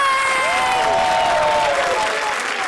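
A studio audience on a comedy show bursts into loud, sustained applause, dense clapping with faint cheering, while whistles and a bright musical sting sweep over it.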